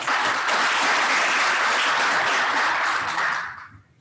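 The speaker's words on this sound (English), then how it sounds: "Give them a round of applause." An audience at a chamber business event applauds, a full, dense wash of clapping that holds steady before tapering off near the end.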